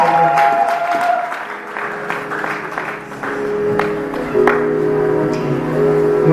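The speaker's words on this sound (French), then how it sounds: "Acclamons Jésus" A church congregation claps and cheers together in a lively burst of applause, with shouts and ringing tones mixed in, fairly loud and sustained throughout.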